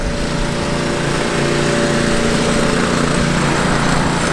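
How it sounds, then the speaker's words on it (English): Steady, loud motor drone with a high-pitched engine whine holds constant throughout, a leaf blower running close by on a New York City street in fall, with no talking over it. "is that a leaf blower or some shit?"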